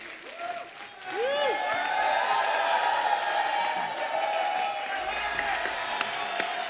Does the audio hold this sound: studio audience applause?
yes